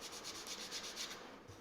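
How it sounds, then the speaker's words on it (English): Rhythmic back-and-forth sanding strokes rasp against filler on the wooden body of a handmade bass guitar, close and quick, stopping near the end. "I'm sanding the filler."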